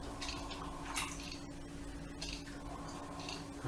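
A piece of cheesecake or cream dessert is plunged into water, giving soft wet squishes and drips that run steadily over a low hum, at moderate level with no talk.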